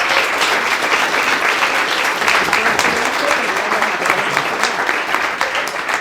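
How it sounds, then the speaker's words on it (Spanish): Dense, steady applause from a large audience of participants at an Open Data Day event, many hands clapping close and loud for the full stretch with no break. "otra vez un aplauso"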